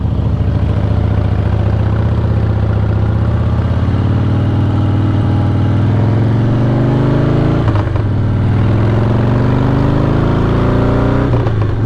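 A 2006 Harley-Davidson Softail Deluxe cruiser rumbles steadily at highway speed, its low V-twin engine note rising and falling slightly with throttle under heavy wind buffeting, with no talking.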